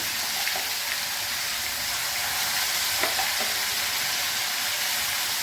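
A ground spice paste with grated ginger, tomato, onion, garlic and cashew fries in a pan with a dense, even hiss and a few faint stirring taps.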